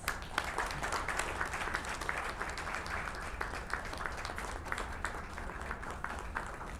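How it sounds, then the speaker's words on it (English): Applause from the audience at a launch event for India's first green municipal bonds in Ghaziabad, fairly faint and distant, with steady overlapping claps throughout and no speech over it. "I'd request everybody to please give a huge round of applause."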